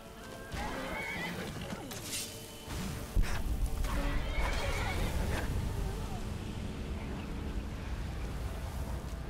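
A horse neighs and whinnies in the video game Skyrim Special Edition amid combat noise with a dragon, the sound layered with crashes and thuds while someone talks over the gameplay.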